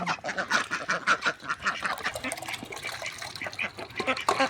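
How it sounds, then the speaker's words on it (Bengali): A flock of domestic ducks quacking and calling busily for food, close by, with dense overlapping calls throughout. "পাতি হাঁসগুলো কাবারের জন্য উষ্টি হয়ে গেছে"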